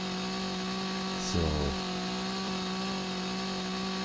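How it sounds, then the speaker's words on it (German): Wood being sawn in the video game Rising World, a steady mechanical droning buzz that holds evenly throughout, with someone briefly saying a word over it. "Dann fängt er schon unten an zu sägen."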